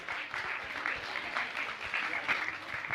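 Audience at a Jain religious question-and-answer gathering applauding loudly, a steady wash of many hands clapping for about three seconds with no break.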